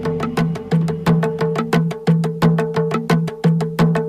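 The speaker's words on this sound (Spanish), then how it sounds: "Este es un sonido de tambor que he creado con el ordenador." Computer-generated drum sound based on reproductions of 4,000-year-old European drums, a steady train of sharp resonant hits with a ringing tonal body, about five strikes per second, loud and alone.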